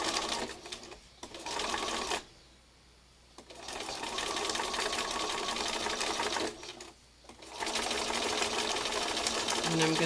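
A sewing machine stitches fabric backed with stabilizer in rapid, steady bursts, pausing twice briefly before running again, close and loud.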